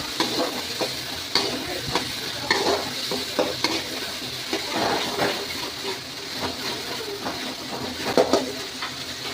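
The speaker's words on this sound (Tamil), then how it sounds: "மஞ்சள் தூள் தக்காளியில் கலந்து கொள்ளவும்" Turmeric powder stirred into tomatoes frying in a pan for chicken curry: a steady loud sizzle with irregular scraping stirs of a spoon throughout, close and continuous with no talk.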